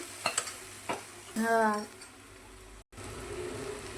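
A spatula stirs spiced masala and salt in a hot pan, giving a short burst of sizzling scrape in the middle between quieter kitchen clatter and background noise.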